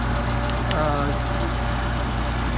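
A rough, uneven engine idle on a car fitted with a Singapore-made Solex carburettor, steady and close throughout, with the throttle briefly moved so the second barrel opens; someone talks over it.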